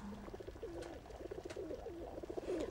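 Pigeon cooing in a quiet indoor setting, a soft repeated rolling coo with a steady rhythm, close and fairly faint, with no voices over it.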